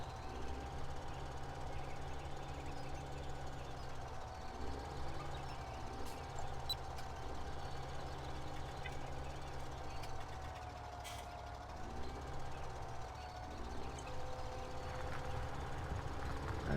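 Farming Simulator 17 tractor pulling a plough, a steady low engine drone with a constant hum running throughout, no voices over it.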